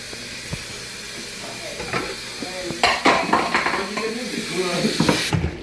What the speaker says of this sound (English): Stir this shit around!